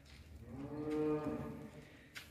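Simmental cattle at a farm give a single long, loud moo close by, a deep drawn-out bellow that swells and fades over about two seconds with no talking.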